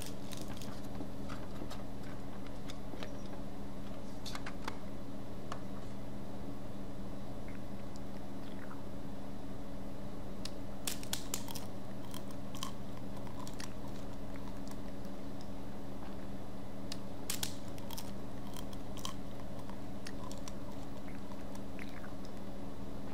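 Charlie crunches food like candy, sharp irregular crisp bites and chewing clicks, sparse at first and then clustered, standing out clearly over a steady low hum.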